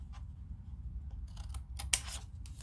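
Scissors snip paper at an angle while making a gift box, a few quiet close cuts building to a sharp, crisp snip near the end.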